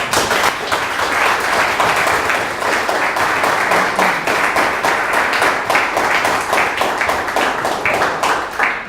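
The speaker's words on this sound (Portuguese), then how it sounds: "Palmas para Jesus." Church congregation clapping together, loud dense applause with a steady rhythmic beat sustained throughout, close and full, with no speech.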